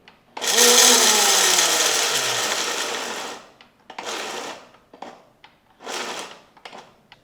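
A kitchen mixer grinds roasted peanuts in a long loud whir that slowly winds down, followed by three shorter pulse bursts with brief pauses between them.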